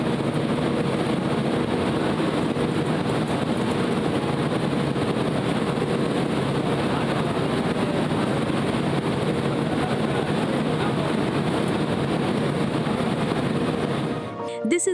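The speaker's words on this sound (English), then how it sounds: "The very first sound you hear when you enter a spinning mill is the sound of the blow room." Blow room machinery in a cotton spinning mill, where cotton is cleaned of seeds and dust, producing a loud, constant broadband roar and hum that holds steady without a break before cutting off near the end.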